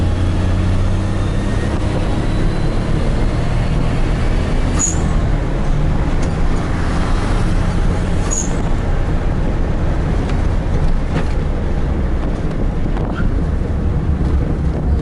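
A Kancil Turbo 660cc L900 car with a rebuilt engine, heard as a steady low drone with heavy rumbling noise and wind buffeting across the microphone, continuous and loud without any talk.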